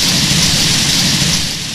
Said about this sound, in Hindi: इधर मूसलाधार बारिश हो रही है